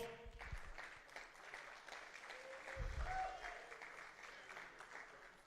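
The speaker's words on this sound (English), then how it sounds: "Ladies and gents, round of applause for Georgi Svetkov." Applause from a crowd at a press conference for a table arm-wrestling event, faint and distant clapping spread through the room while a voice speaks over it and brief low thumps sound near the mic.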